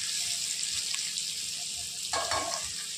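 Four byadgi chillies fry in hot oil in a pan with a bright, steady hiss, a brief louder crackle bursting up near the end as they are stirred, close by.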